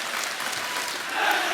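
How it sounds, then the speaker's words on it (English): A packed esports arena crowd at a Counter-Strike match on Inferno cheering and applauding as one dense roar that swells slightly toward the end, with a caster's voice beneath it. "I could barely hear you over the crowd"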